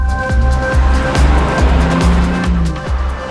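A BMW X3 M40i with an 8-speed Steptronic transmission accelerates hard, its engine note rising through quick gear changes with short breaks and a touch of tyre squeal, loud and close, with no talking.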